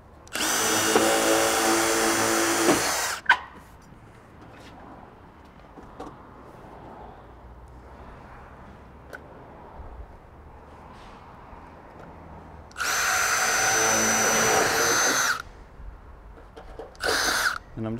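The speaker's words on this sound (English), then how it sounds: "And I'll just pre-drill a hole for those screws." A power drill whines in two loud bursts of a few seconds each, pre-drilling screw holes in metal roof barge capping, separated by quiet handling noise, with a brief final spurt.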